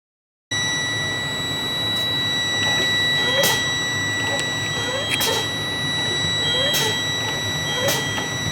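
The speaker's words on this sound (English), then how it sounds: "The low air warning device activated at 60 psi." A truck's low air pressure warning buzzer sounds as the air brake system drops to 60 psi, a steady high electronic tone running continuously behind intermittent clicks and hissing bursts of air inside the cab.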